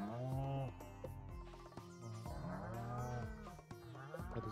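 Cows in the Stardew Valley farming game moo repeatedly in long, drawn-out calls, several overlapping lows in steady succession, loud and close with no talk over them.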